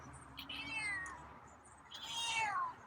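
A feral cat named Scruffy meows twice outdoors, two drawn-out, fairly faint mews separated by a short pause, with no talk over them.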